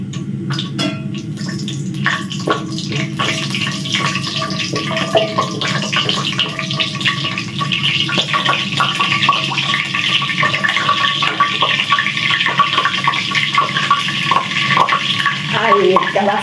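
Water runs steadily from a kitchen tap for a long stretch while cooking beef rendang, a constant splashing hiss with a few clinks and knocks of items being rinsed.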